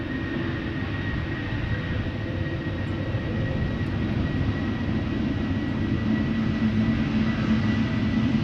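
An airliner departing Amsterdam Schiphol Airport, a steady, loud jet engine roar holding constant with a faint tonal whine, heard from close range with no voices.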